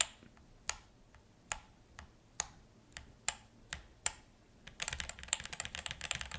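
Mechanical keyboard with Gateron Ink switches, single keys pressed one at a time in a slow, spaced rhythm of crisp clacks, then a quick burst of rapid typing, close and quiet with no talk.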